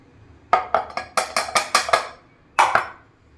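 Milk powder is stirred into melted ghee in a pan while making Dharwad peda. A spoon clinks and scrapes against the metal in a quick run of about eight sharp strokes, a pause, then a few more, close and clear.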